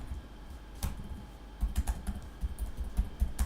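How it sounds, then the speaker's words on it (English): Keys clatter on a computer keyboard, a lone tap followed by a quick, uneven burst of close, crisp keystrokes with no talking. "you can see if I am typing something also"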